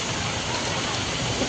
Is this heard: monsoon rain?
yes